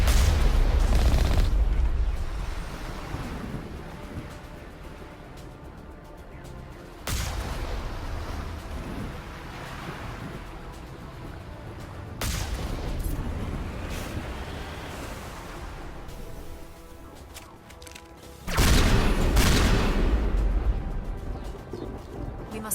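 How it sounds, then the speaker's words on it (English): Artillery fire in Mass Effect Legendary Edition gameplay: heavy booming blasts come in loud bursts over a constant rumbling battle din, with quieter stretches between them. "We must find a way to disable their artillery."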